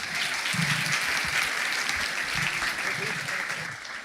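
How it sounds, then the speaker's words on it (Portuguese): Congregation applause welcoming a music group at a church gathering, sustained dense clapping with a few voices underneath, tapering slightly toward the end. "Uma salva de palmas."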